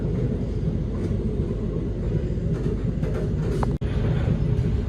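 The Gajayana passenger train runs along at speed just after leaving Solo Balapan station, a steady close rumble of wheels and carriage noise with one brief sharp knock midway.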